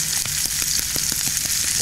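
Iron pan being seasoned over a campfire, sizzling and frying loudly and steadily, with faint crackles scattered through the hiss.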